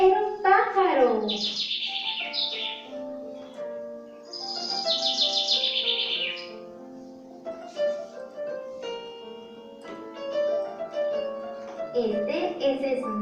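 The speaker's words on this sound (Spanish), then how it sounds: "era un pájaro." A bird chirps and tweets in clear bursts of bright calls separated by short pauses, close and fairly loud.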